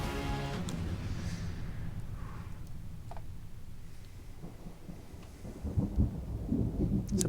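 Thunder rumbles in the Gabriel Knight 20th Anniversary video game, low rolling booms over a soft bed of falling rain, heavier rumbling swelling near the end, with no voices.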